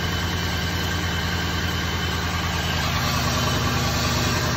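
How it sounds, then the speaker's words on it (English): A 2001 Cadillac engine idles rough with a misfire from ignition coil and spark plug faults, a steady dense close-up drone with a low uneven rumble throughout and no talk. "So as you can see, it's running a little rough."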